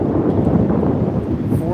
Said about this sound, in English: 40-mile-an-hour winds.